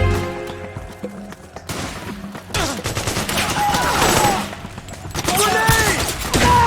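Battlefield gunfire in Metal Gear Solid 4: Guns of the Patriots, a dense, continuous fusillade of shots and explosive bursts with shouting voices mixed in throughout.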